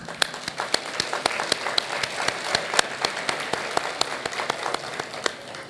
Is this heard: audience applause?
yes